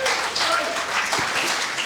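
A church congregation clapping hands together, a dense continuous patter of applause filling the short moment with a few voices mixed in.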